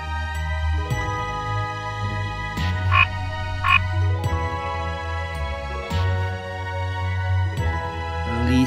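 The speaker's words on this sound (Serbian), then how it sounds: "žaba" A frog croaks repeatedly in a deep, rhythmic, throaty pulse, with several long croaks separated by brief pauses, close and clear and with no talking.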